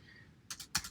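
Computer keyboard typing while entering a numeric value in data-analysis software, a few quick close keystrokes in two small bursts over a quiet room background.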